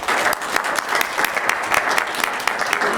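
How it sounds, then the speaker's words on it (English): Loud, close applause for Roger Brunker at a Weber County meeting, a brisk crowd clapping steadily with crisp individual claps popping out through the dense patter. "Let's give him a round of applause"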